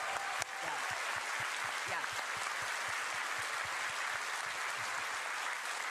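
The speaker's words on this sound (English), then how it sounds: "Let's give them a round of applause" A convention crowd gives the DE (Digital Extremes) development team a round of applause, dense and steady for several seconds, with a few voices faintly mixed in.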